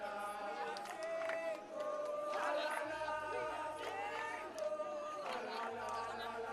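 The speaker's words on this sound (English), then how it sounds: "as the Kavango East team, soccer team, cheering on" A soccer team's supporters cheer at a netball match at Outjo Sports Stadium, a lively mix of shouts, whoops and chanting voices. The crowd noise is steady and moderately distant, with an announcer talking over it.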